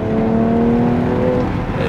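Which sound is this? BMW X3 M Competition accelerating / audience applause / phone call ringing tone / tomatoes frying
BMW X3 M Competition accelerating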